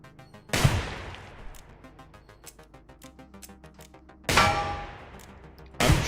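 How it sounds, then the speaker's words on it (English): Gunfire in a space shooter game: three loud metallic clanging blasts standing out from a rapid ticking run of lighter shots, close and harsh, with no talk. "I'm shooting them, but it's not killing them."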